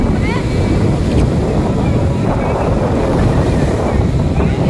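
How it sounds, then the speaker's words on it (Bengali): Big sea waves roll in at Digha beach at high tide under low-pressure weather, a loud continuous roar of surf and wind buffeting close by with no let-up. "বেশ নিম্নচাপ আছে এই মুহূর্তে, যার জন্য ঢেউটা এতটা বেশি জোয়ারের সময়"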